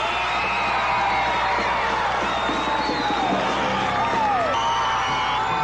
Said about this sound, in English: When the crowd heard that Reagan was the projected winner, here's what happened